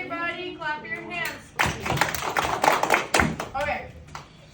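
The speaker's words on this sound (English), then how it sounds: "Everybody clap your hands." Children clap their hands together in a classroom, a burst of quick, uneven claps in the middle, with a voice talking before and after.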